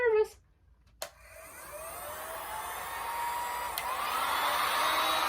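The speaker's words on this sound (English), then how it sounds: "here's the new heat gun" A new heat gun switching on and blowing hot air, after a couple of brief clicks, builds into a steady whooshing whir that stays close and continuous, with faint talk near the start.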